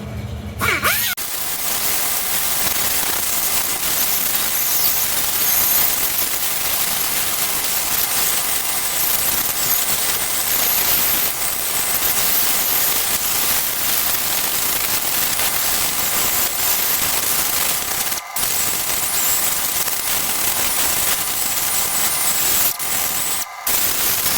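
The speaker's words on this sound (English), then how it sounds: "So now I'm sanding all these little casting marks off" Steady, continuous whirring and hissing of a power sander removing casting marks from TH350 transmission metal, loud and unbroken for the whole stretch, with a couple of brief cut-outs near the end.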